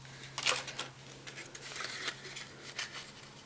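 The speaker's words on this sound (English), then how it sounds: "I'll trim this little bit off." Scissors snip through paper while trimming a small piece off a Stampin' Up! candy box, a quick series of close, crisp cuts with nothing else heard.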